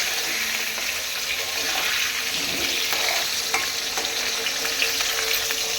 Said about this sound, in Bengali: আলুগুলোকে এখন আগে ভেজে নিই